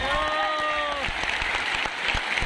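Seminar audience in Patna clapping for teachers, a dense patter of applause mixed with cheering and a voice over it, steady and fairly loud throughout.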